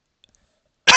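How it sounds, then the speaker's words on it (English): One short, sharp cough bursts out close and loud at the very end after near silence. "turn my head, cough,"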